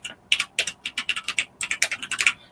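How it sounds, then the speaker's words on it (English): Search term typed on a computer keyboard, a quick rhythmic run of about twenty crisp key clicks over a couple of seconds, close and clear with no talk. "let's just type in budgeting"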